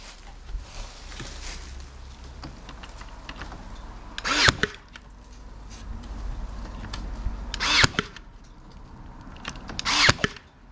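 A Ryobi One Plus Airstrike cordless staple gun firing three spaced, loud sharp shots over quiet background handling noise, nobody speaking.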